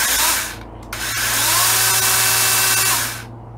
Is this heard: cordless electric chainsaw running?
yes